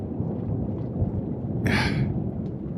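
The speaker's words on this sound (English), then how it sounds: "The rain starts to let up a little bit." Steady rain patters throughout with a low rumbling undertone of distant thunder, and a brief brighter burst of sound cuts through midway.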